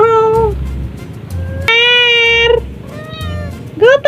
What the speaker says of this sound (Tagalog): At ang aking pusa na si Mangar ay gutom na rin.